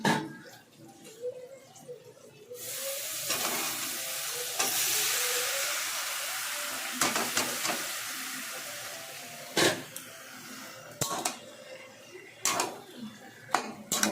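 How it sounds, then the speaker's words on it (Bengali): Hilsa fish head and taro stalks sizzle in a pan while being stirred, with a loud burst of frying as the stalks go in, then steady hiss broken by sharp scraping strokes of the spatula. "একটু নেড়ে চেড়ে নিয়ে মাছের মাথাটা বেশি ভাজবো না কচু শাকের কচুর ডাটাটা দিয়ে দেবো"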